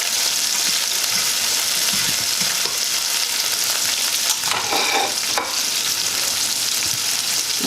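Garlic cooks in a pan for Jamaican ackee and saltfish, giving a loud continuous sizzling hiss with occasional scraping stirs from a fork, close and steady throughout.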